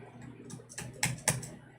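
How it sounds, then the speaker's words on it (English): A computer keyboard clatters softly with a handful of scattered key presses, a few sharper taps standing out over quiet room background, with no talking. "My keyboard is not working no more."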